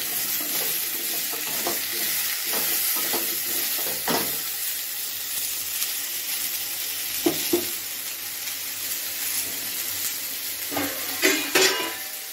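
Spices and a whole green chili fry in a pan, a continuous sizzle broken by scraping stirs and a few metallic knocks against the pan, close and fairly loud with no talking.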